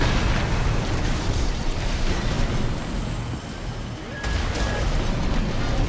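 Mech weapons fire in an Armored Core VI arena battle: dense, loud booming bursts and explosive roar fill the whole stretch, with a brief dip near the end before the barrage resumes.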